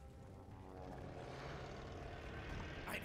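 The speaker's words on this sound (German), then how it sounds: "Ein Flugzeug!" A propeller airplane in the shooter Call of Duty Vanguard drones steadily overhead at Tobruk, a faint continuous engine rumble that swells slightly as it passes.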